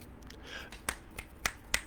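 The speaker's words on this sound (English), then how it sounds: "time to snap the fingers. I'm going to do the beatnik applause here" A few sharp finger snaps given as beatnik-style applause during a live community news show, four distinct crisp clicks spaced unevenly over a quiet room.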